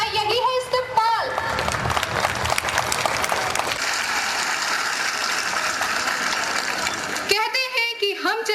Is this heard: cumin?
no